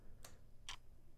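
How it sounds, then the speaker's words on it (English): Two sharp, bright clock ticks spaced about half a second apart, with a gritty tape-saturation distortion edge over a faint low hum. "it's just some sort of clock."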